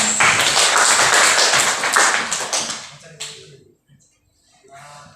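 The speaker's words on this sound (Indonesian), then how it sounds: "Beri tepuk tangan untuk teman kalian" A physics classroom breaks into lively applause for a student, dense clapping that holds for about three seconds and then tapers off, followed by a few faint voices.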